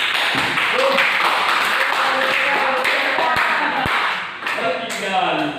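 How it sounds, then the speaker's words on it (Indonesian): Students in a madrasah classroom clap for a classmate who answered correctly, a dense run of hand claps and taps, close and fairly loud, continuing steadily throughout. "baik tepuk tangan kepada kawan kita yang bisa jawab"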